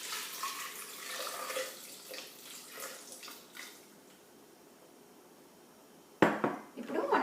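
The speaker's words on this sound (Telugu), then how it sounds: "బ్లెండ్ చేసుకోవడానికి సమ్ వాటర్. నేను వాటర్ యూజ్ చేస్తున్నాను" Water pouring and splashing into a blender jar with chikoo and dates for a smoothie, bursty at first, then a quiet pause and a sharp clatter and splash near the end, no talking.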